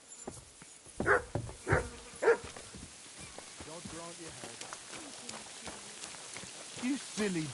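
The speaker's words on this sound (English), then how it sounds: "You silly doggy." A dog barks several times in short bursts in the medieval role-playing video game Kingdom Come Deliverance 2, followed by someone speaking over ambient game sound.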